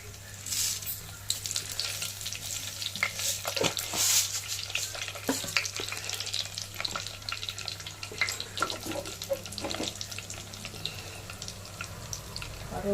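Vadagam, fenugreek seeds and cumin fry in hot oil, a continuous crackling sizzle with sharp spattering pops and occasional stirring or water sounds, close by with a steady low hum underneath.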